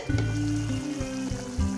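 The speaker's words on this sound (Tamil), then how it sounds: "அந்த அளவுக்கு நல்லா கொதிக்க விட்டுடுவோம்" Idli kurma simmers in a lidded pan on the stove, giving a close, steady bubbling sizzle with small irregular pops and no talking.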